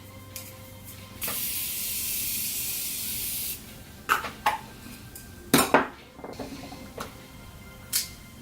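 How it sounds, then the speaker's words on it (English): Morphe Continuous Setting Spray misted during an everyday makeup routine: one steady, close hiss lasting about two and a half seconds, followed by a few light clicks and clinks of makeup items. "Morphe Continuous Setting Spray."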